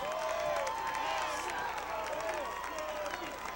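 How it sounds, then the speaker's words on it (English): A football crowd roars outdoors after a touchdown, a steady distant wash of cheering and applause under someone talking. "you can hear the crowd outside"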